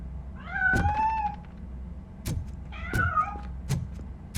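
A cat in the video game RoboCop: Rogue City meows twice, two clear, drawn-out cries separated by sharp clicks and knocks in a quiet indoor space.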